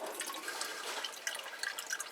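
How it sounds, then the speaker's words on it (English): Liquid from a can of mushrooms poured into a jar while making Irish spaghetti, a steady thin trickle and drip with faint splashes running throughout, close and fairly quiet with no talking. "I like to pour the liquid off the can into the jar"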